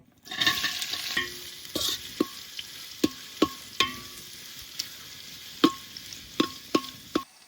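Chopped onion sizzles in hot oil with whole spices while a spoon scrapes and stirs it, giving steady frying hiss broken by sharp, irregular clacks of the utensil against the pan, close and clear.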